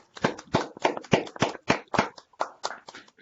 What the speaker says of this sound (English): The applause sort of comes in waves